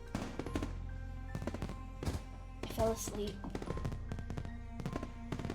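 Fireworks in the Katawa Shoujo visual novel crackle as a string of sharp, irregular pops and bangs at moderate distance, with a voice speaking over them.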